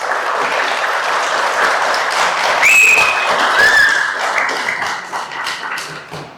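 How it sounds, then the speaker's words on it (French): A crowd applauds with dense, sustained clapping for several seconds, a couple of faint whistles rising above it before it fades out. "Les portraits, vous pouvez les applaudir, les 2 là, ils le méritent."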